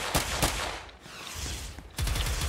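Gunfire rings out in the online shooter game Harbor Havoc: rapid bursts of shots, close and loud, with a brief lull in the middle before firing resumes.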